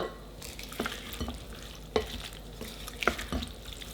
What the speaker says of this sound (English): You can stir it all together.